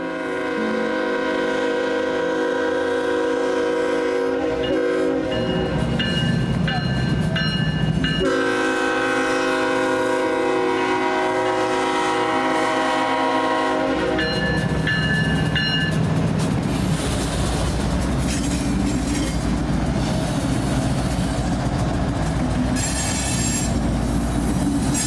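BNSF freight train rolling through a Kansas City rail junction: a loud, sustained horn sounding in long blasts over rumbling wagons, with squealing wheels and clattering cars near at hand.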